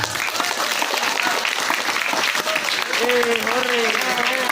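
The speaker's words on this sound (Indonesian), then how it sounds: "Silakan tepuk tangan yang meriah." Steady applause from a school student crowd at a student council candidate debate fills the room, continuous and fairly loud, with a voice talking over it toward the end.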